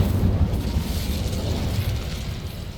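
Incendio fire spell cast in Hogwarts Legacy, heard as a steady, loud, crackling whoosh of flame with a deep rumbling roar that lasts throughout and fades slightly toward the end.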